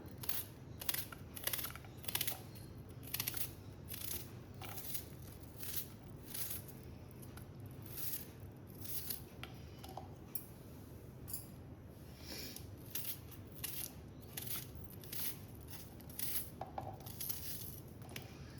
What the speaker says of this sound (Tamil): அதுக்கு முதல்ல வெங்காயத்தை கட் பண்ணிக்கலாம்.